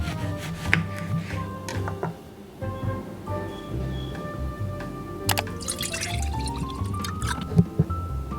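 Lemon water is poured into a glass, giving soft trickling and dripping with a rising pitch as the vessel fills, alongside a few light clinks and kitchen handling noises, no talking.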